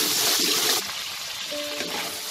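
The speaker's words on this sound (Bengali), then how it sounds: "এবার আমি এতে নুন হলুদ মাখিয়ে রেখে চিংড়ি মাছগুলোকে আমি ভেজে নেব।" Salted, turmeric-coated prawns fry in hot oil, making a loud, dense, continuous sizzle and bubbling hiss close up that eases slightly partway through.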